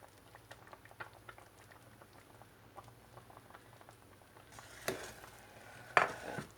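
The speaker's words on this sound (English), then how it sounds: "As you can see, it's simmering away" Apricot jam simmering gently in a pot over low heat: soft, scattered bubbling pops and quiet patter, faint and close, with a couple of louder clinks or stirring knocks toward the end.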